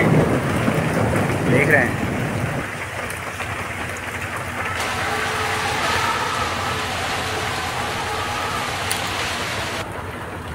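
Steady rain pouring over Delhi under a heavy sky, a dense continuous hiss with a deeper rumble early on, while someone speaks briefly over it.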